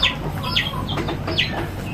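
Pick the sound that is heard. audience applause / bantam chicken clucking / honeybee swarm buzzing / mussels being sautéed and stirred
bantam chicken clucking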